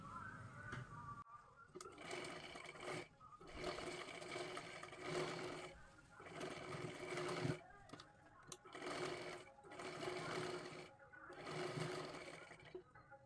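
Sewing machine stitching a round seam on a cloth cover for a puja plate, made from blouse pieces; steady mechanical whirring runs in repeated bursts of a second or two with short pauses between.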